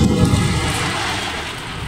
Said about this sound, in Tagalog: Nag-ulan na.